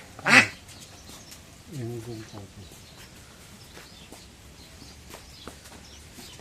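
A single loud, brief duck quack from a domestic duck near a village pond, followed by a few softer bird-like calls, with quiet outdoor ambience throughout.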